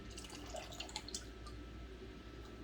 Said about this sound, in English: So we're gonna pour that in there.